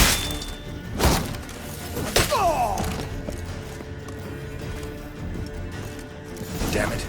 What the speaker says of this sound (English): explosion triggered that fight